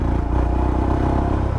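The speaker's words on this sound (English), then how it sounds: "It just adds so much more fun to a motorbike having an exhaust like that." A Royal Enfield Scram 411 single-cylinder motorcycle with an aftermarket end can exhaust rumbles steadily at close range, a deep, continuous burbling note with slight clatter and no pauses.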